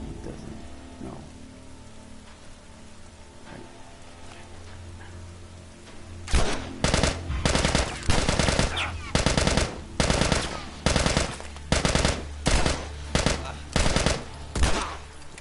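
After a quiet stretch, gunfire in The Last of Us video game breaks out in a series of loud, evenly spaced bursts that repeat steadily to the end.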